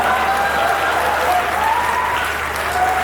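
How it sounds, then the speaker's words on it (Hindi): Audience at a Hindi comedy poetry show claps in sustained, even applause, a dense wash of hands with no talk over it. "आपकी तालियां सही जगह बजी।"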